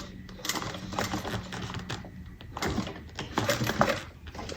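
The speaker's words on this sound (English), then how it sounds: "I'm going to just back stitch" A sewing machine back stitching along the top of a bag, running in short uneven bursts with a mechanical clatter and brief pauses, close by, with faint background noise.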